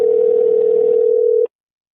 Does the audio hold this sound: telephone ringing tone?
yes